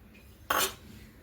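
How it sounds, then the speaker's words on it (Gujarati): A single brief rattling pour of coarse salt scattered across the bottom of a pan, laid as a bed for boiling sweet potatoes, loud and close for a moment against a quiet room. "અહીંયા હવે હું તળીએ બધું જ નિમક એડ કરી દઈશ આ રીતે"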